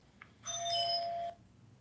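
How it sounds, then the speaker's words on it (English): A single electronic doorbell chime rings out briefly and clearly against a quiet background. "Your doorbell is busy."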